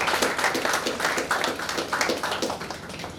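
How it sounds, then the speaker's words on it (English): Applause from an audience at a young people's fiction writing workshop for a child participant, a dense, steady patter of many hands clapping close by for a few seconds. "Round of applause for Kush, everyone."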